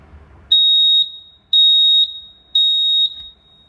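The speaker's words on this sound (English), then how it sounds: "New batteries in the smoke alarm. Push it up. Press the button to test." A household smoke alarm with freshly replaced batteries sounds its test: three loud, piercing electronic beeps, each about half a second long and evenly spaced, with near silence between them.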